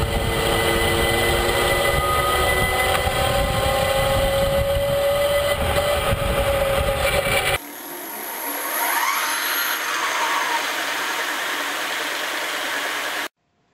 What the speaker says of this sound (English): the following clips are examples of what noise level can be expected with various motor wheel